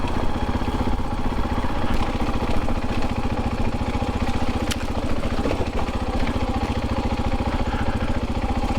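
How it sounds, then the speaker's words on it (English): Steady close Husqvarna FE501s motorcycle engine drone with a rapid, even chug, the throttle closed so the motor holds a constant engine-braking note. "Engine braking."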